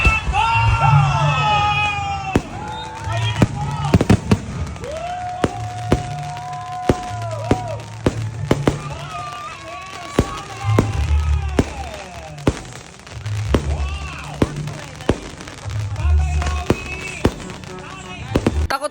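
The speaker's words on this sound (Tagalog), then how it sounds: "sobrang ganda ng fireworks display dito" Fireworks burst and crackle in a steady barrage of loud booms at a Christmas village display in San Rafael after a countdown, with a crowd cheering and shouting throughout and a dog whining nearby.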